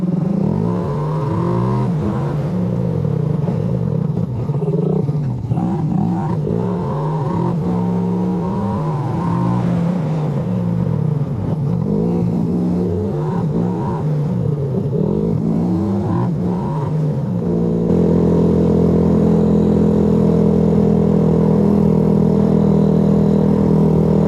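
A Suzuki GN125 motorcycle engine runs steadily and close by for the whole stretch, its thrumming note shifting as it rides along, then settling into a smoother, steadier hum toward the end.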